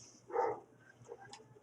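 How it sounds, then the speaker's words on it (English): A dog indoors gives a single short, faint bark that is quickly over, followed by low background noise. "my dog is going insane"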